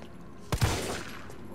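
Gunfire in the Resident Evil 3 Remake demo: a loud gunshot followed closely by a second shot, then a fading reverberant tail over low game ambience, with no talk.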